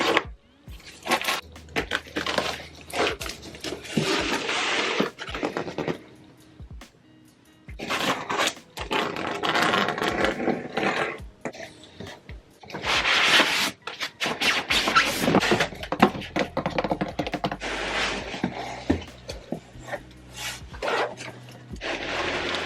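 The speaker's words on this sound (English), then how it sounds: "Now I'm just gonna go back to trusty scissors." Scissors snip and rasp through stiff, sturdy packaging of an xTool F1 laser cutter in repeated bursts, with crinkling and rubbing between cuts and short pauses, close by and fairly loud.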